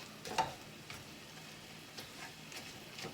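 Ground pork browns in a pan for stuffed mushrooms, giving a soft, steady sizzle with a few light scraping and stirring taps scattered through.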